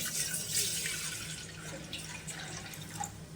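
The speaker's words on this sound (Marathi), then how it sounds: "पातेल्यामध्ये पाणी घालूया." Water poured into a cooking pot for finger millet ambil, a faint, steady splashing trickle like a running tap, heard alone at low level.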